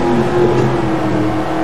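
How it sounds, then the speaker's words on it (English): A car engine in the Roblox video game drones loudly as it accelerates. It holds a steady, continuous tone close up with no pauses. "I'm gonna step on the gas."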